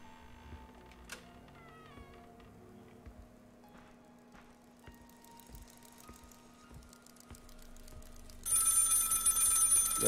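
An old telephone rings inside the video game Maid of Sker, faint repeated bell trills against a quiet room tone, then a louder wash of rain-like hiss rises in the final seconds.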